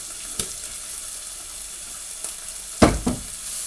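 Ground turkey sizzles and crackles softly as it browns in a hot pan, with a few sharp scrapes and clatters of stirring near the end.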